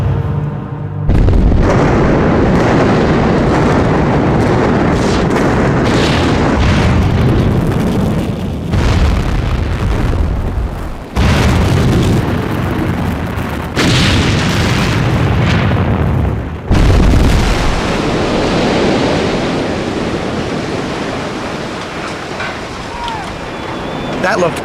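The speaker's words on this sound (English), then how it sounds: "The machine has the button which triggers the detonation." Explosive charges detonate to bring down a building in an urban demolition, a long, loud series of booming blasts and rumbling collapse that rolls on for many seconds, with people talking over it.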